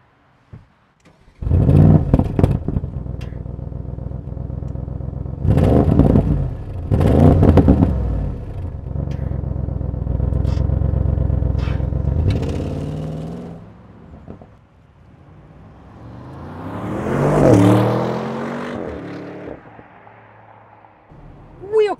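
An Audi RS6 engine revs hard in several loud bursts, each swelling and dropping away, then settles into a lower rumble before one last rising rev.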